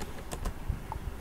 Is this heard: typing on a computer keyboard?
yes